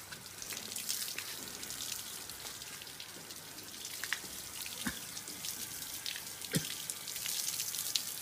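Bamboo rat meat is washed in running water, a continuous close splashing and trickling with scattered drips and small knocks, no one speaking.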